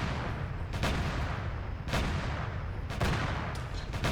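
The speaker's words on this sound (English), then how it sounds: "This puppy's literally an artillery gun." A mass driver cannon firing in a video game, a few heavy booming shots about a second apart over a constant low rumble, loud and close with no talking.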